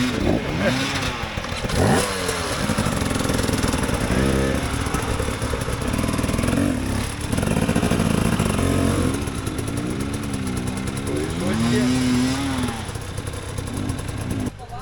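An off-road motorcycle works its way up a hill at an enduro event, the engine revving and bogging in uneven bursts with clattering throughout, fairly close and loud.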